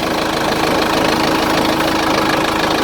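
A Branson tractor's Cummins diesel engine idles nearby with a loud, steady, even rumble and a fine rhythmic knock running unbroken through the clip, with no talking.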